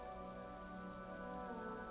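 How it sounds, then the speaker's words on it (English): Steady rain patters onto the roof of a woodshed in a yard, a dense, even hiss of drops that stays constant and fairly soft throughout, with no voices. "A yard, rain falls onto the roof of a woodshed."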